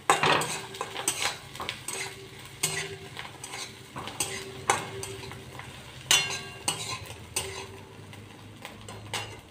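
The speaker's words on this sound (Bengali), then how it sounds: "এই দেখুন মাছের ডিম আমি ভেজে নিচ্ছি।" Fish roe frying in a pan with salt and oil, a soft sizzle broken by repeated sharp clinks and scrapes of a utensil against the pan, spaced irregularly with no talking.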